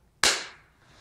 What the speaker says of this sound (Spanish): Aplaude una vez para ver qué sucede.